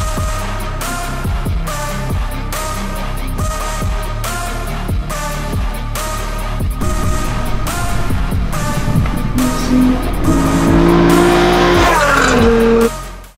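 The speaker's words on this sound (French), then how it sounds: "c'est une Nissan 350Z" A Nissan 350Z engine drones steadily in a loud, rhythmic pulse with repeated revving, then rising tire squeal near the end as the tires are pushed hard, close up with no talk.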